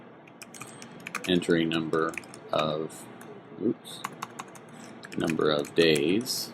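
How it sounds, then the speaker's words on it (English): Keys clatter on a computer keyboard in quick uneven bursts while JavaScript code is entered, close and fairly loud, with someone speaking over and between the keystrokes. "You can see my typing hasn't improved any."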